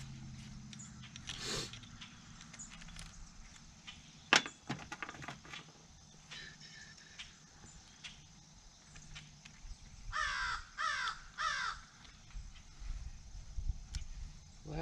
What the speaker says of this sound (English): My crows are up this morning.